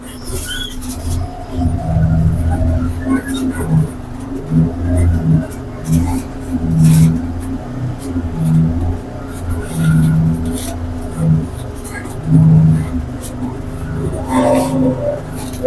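A sand-laden lorry crawls over a stony rough road with a low engine drone and repeated rhythmic thumps and knocks as the tyres hit rocks, loud and close inside the cab, with no talking.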